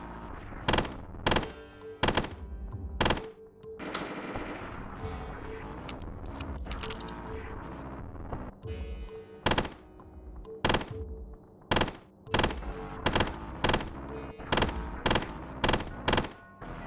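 Gunfire and a grenade explosion in the shooter game Cruelty Squad: a rapid series of sharp, loud bangs and thumps, with a broader blast rumbling in the middle of the burst.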